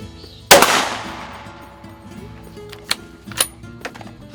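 A rifle fires a single loud, close shot while hunting boar at night with a FLIR thermal scope, its crack decaying over about a second, followed by fainter metallic clicks and knocks.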